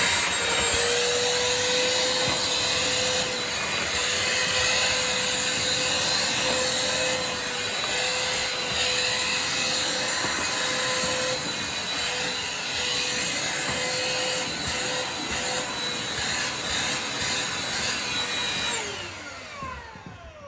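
A Shark CH950UKT cordless handheld vacuum fitted with its crevice tool runs steadily and close by with a high, whining drone for about eighteen seconds, then winds down near the end.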